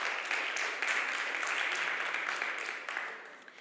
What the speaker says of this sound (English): So I would like to applaud these 2 wonderful people.